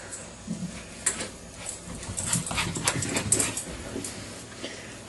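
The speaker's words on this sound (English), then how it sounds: "Boy, she's a fast doggy." A fast female dog runs about, panting and letting out short whimpers in quick bursts, fairly faint and close, with a few light knocks and scuffs between the breaths.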